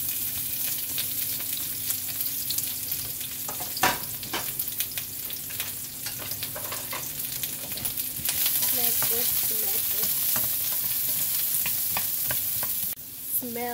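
Garlic and onions fry in olive oil, giving a continuous close sizzle broken by scraping and clicking stirring sounds, with no voices.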